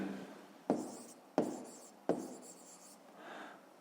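A pen writes an answer by hand on paper: three distinct strokes or taps with scratching in between, quiet and close, then a softer rub at the end.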